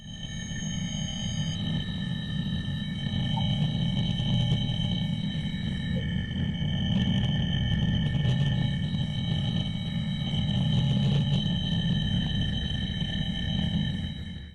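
A purported mysterious signal from outer space, played back as a recording: a steady, droning, noisy hum with faint tonal whistles layered above it, holding for the whole stretch with no breaks.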